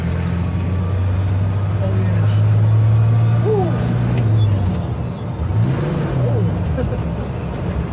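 Engine of a 1961-1966 Chevrolet C10 pickup revving and pulling hard as it accelerates from inside the cab, a loud low drone rising then dipping between shifts, with a person's excited exclamations over it.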